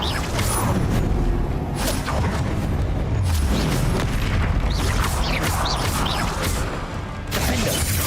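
A Confringo fire spell bursts in Hogwarts Legacy combat, a heavy booming blast with whooshing magical swishes and crashing impacts over dense, continuous game noise and music.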